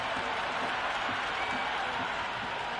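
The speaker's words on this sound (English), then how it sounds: "The crowd is electric right now." A cricket stadium crowd at a Lahore Qalandars versus Islamabad United PSL match keeps up a dense, loud roar of cheering and applause, with commentary talk running underneath.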